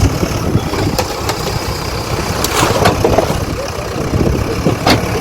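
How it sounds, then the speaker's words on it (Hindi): A JCB excavator's engine idles steadily through a street clearance, a continuous low rumbling drone with a few brief sharper knocks, close and fairly loud, with no talking over it. "जेसीबी आई हुई है, सामान अपना हटा लो।"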